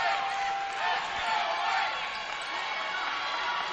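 Sun Prairie home crowd at a girls high school basketball game against Middleton, a dense continuous roar of voices and cheering filling the gym, steady and loud throughout.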